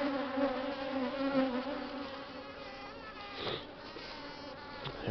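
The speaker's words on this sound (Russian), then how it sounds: "Это наша местная пчела." Local honeybees from a swarm buzz steadily and close, a dense droning hum with individual insects flying past, continuous for the whole stretch with no talk.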